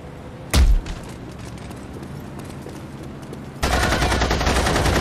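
Gunfire in The Saboteur aimed at a propaganda loudspeaker: one loud sharp shot near the start, a quieter stretch, then a sustained dense burst of rapid firing to the end.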